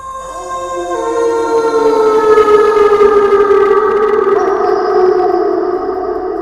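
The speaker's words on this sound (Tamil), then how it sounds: "ஆம்புலன்ஸ் அலரும் சத்தம் கேட்டது." A loud ambulance siren wails in a steady, sliding tone, its pitch slowly falling and rising, near and continuous.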